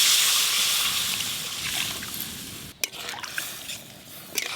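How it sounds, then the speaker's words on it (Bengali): Water pours steadily into a pan of tamarind sour curry, a broad hissing rush that tapers, with a few small clinks and splashes near the end. "এবার জল ঢেলে দেবো।"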